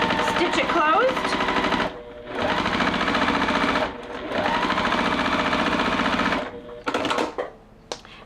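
Sewing machine stitching a quilted holiday pillow closed, close and loud, running in three long buzzing bursts separated by short pauses, with a few brief clicks at the end.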